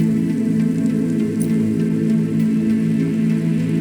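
Steady, dense rain falls in the cyberpunk video game Cloudpunk, a loud, even hiss with a low droning hum beneath it and no pauses.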